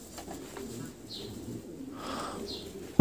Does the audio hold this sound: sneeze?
no